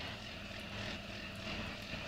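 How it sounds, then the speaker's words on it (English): A John Deere tractor engine in Farming Simulator 19, pulling a muck spreader, hums in a steady, throbbing drone with a low rhythmic pulse, continuous and moderately quiet. "I really like the sound of the John Deere right here"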